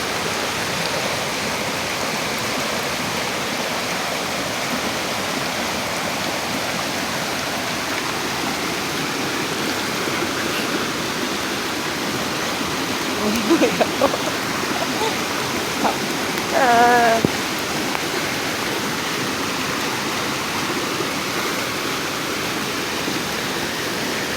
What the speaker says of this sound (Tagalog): Ang lakas ng tubig na yan, oh.